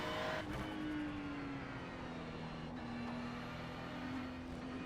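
Ferrari 296 race car in the iRacing game pulling out of the pit lane, its engine giving a steady droning hum with a slowly shifting pitch, moderately loud and continuous without speech.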